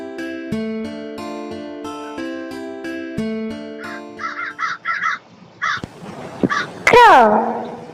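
A crow gives a quick series of harsh, short caws after a stretch of bright backing music, followed by a final drawn-out call, all close and fairly loud.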